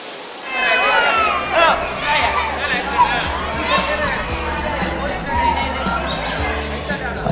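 A crowd inside Meenakshi Temple in Madurai makes a steady, echoing hubbub of many voices and footsteps that continues throughout, with a narrating voice over it.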